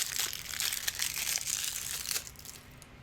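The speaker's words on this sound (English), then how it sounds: "You hear that crinkling?" Fresh battery packaging crinkles and crackles continuously up close, a dense rustling that thins out toward the end.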